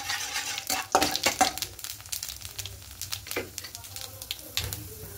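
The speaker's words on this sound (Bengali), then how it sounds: "তা ঘিয়ের মধ্যে কালো জিরে ফোড়ন দেব, একটু হালকা নাড়াচাড়া করে ভেজে নেব।" Black cumin seeds sizzling in ghee in a pan, stirred gently with a utensil that scrapes and clinks against the metal in irregular strokes, close up over a soft frying hiss with no talking.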